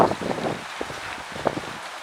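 Strong wind gusting outdoors in rural Surin province, Thailand, as rain begins, a steady broadband rush with scattered rustling and soft irregular gusts, no voices present.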